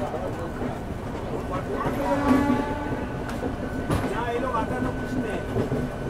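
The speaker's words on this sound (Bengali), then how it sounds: "আর পাশ দিয়ে একটা লোকাল ট্রেন যাচ্ছে" A local train rumbles past at Howrah Station in Kolkata, a steady close roar of wheels and rail noise with faint squeals, heard from another train about to depart.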